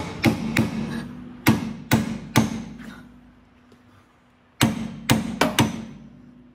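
Hammer blows knocking loose an upper ball joint on a 1961-62 Ford Thunderbird, sharp metallic strikes in two bursts of about five and four hits, close and loud with ringing decay, a quiet pause between, no talking.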